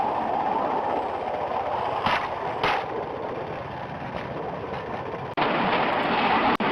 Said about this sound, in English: The journey started and we are just moving on a bridge. You can see the speed at which the train is running.